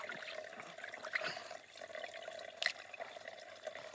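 Water trickling from a source into a bottle being refilled during a mountain hike in the Adirondacks, a soft continuous pour with faint gurgles, heard alone and quiet.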